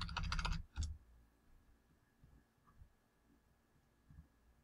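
Fingers type on a computer keyboard in a quick burst of close clicking keystrokes lasting under a second, then a few scattered faint taps and clicks over a quiet room hum.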